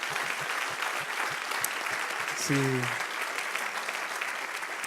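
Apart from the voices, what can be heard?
applause in church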